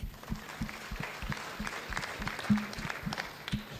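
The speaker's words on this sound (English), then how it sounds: "Another round of applause for the guests" A crowd applauds steadily throughout at a World Children's Day celebration at KICC, Nairobi, a dense patter of clapping with a few louder claps standing out, no one speaking.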